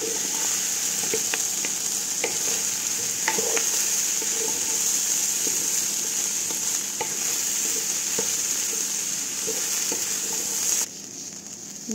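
Rice tipped into a pan of golden brown fried vermicelli (sha'riya), steady loud sizzling frying with scattered stirring clicks and scrapes throughout, the hiss cutting off near the end.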